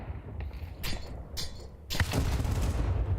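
AK rifle fire in a Counter-Strike match comes as short bursts of sharp cracks, then a louder, denser barrage in the final second, over a steady game ambience with no talk.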